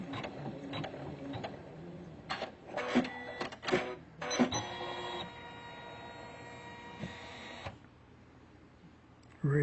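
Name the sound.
Usha Janome Memory Craft 550E machine stitching out embroidery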